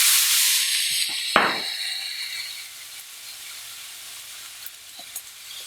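Garlic and tomatoes sizzle loudly in a hot pan as they are stirred, with a sharp scrape partway through before the frying hiss settles to a quieter, steady sizzle.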